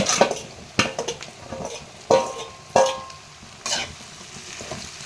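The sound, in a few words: okra added and stirred in oil with fried onions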